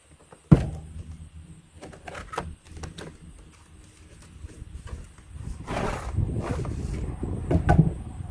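Someone opens the box of a Harbor Freight propane torch: one sharp snap near the start, then scattered handling knocks and a stretch of rustling packaging toward the end.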